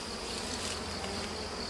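Honey bees buzz steadily and densely around an opened hive box while a nucleus colony is being installed, a close, continuous hum with no pauses.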